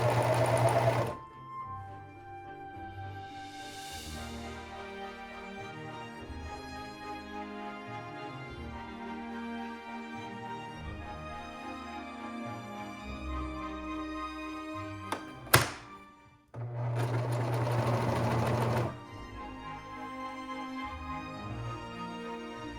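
A sewing machine runs in long steady bursts while stitching sleeves into a turtleneck, with a couple of pauses and a sharp thunk in the middle, heard close and alone.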